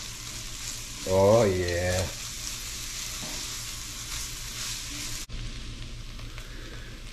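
Chopped onions fry in a pot as the base for a low-carb clam chowder, giving a steady, close sizzle that runs through the whole stretch, with a short spoken remark near the start.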